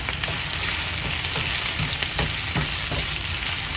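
Onion sautéing in a pan, a dense steady sizzle close up with periodic soft stirring scrapes, no one talking.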